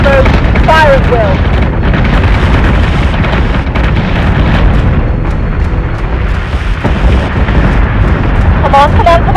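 Secondary battery weapons on starships firing in the Battlestar Galactica Deadlock space combat game, a dense, continuous barrage of booming blasts and bursts, with bright synthetic whistling tones at the start and end, loud throughout.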